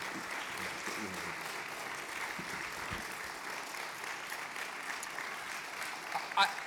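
Sustained applause from a congregation in a synagogue following a bar mitzvah service, steady and moderately loud throughout, with a few louder claps and noises near the end.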